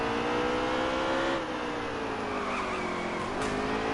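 A NASCAR race car on the Charlotte Roval in NASCAR Heat 3 slides with steady tire squeal over a constant engine drone, pitch shifting slightly as the slide continues, no talk.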